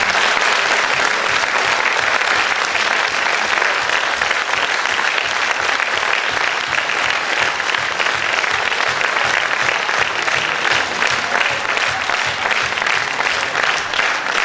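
Sustained applause fills a variety-show hall at the Casino de Dieppe, a dense, steady clapping from a large audience that holds at full strength for the whole stretch without any voices rising above it.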